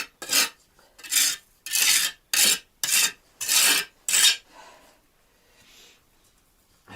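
Trowel rasping as it spreads mortar on bricks while building a fireplace, seven rough scraping strokes in a steady rhythm, close and loud, followed by faint quieter handling.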